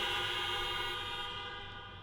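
A stadium crowd at a finance talk in Allianz Parque blows a dense, sustained chorus of air horns and buzzers that fades slightly toward the end, with no talking over it.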